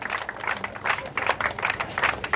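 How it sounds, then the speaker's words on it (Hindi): An audience applauds the players at a college sports event between Co-operative College Jamshedpur and Tata College Chaibasa: a steady patter of many hands clapping, fairly faint and distant, in uneven surges with no voices over it. "जोरदार ताली बजाएं सभी खिलाड़ियों के लिए।"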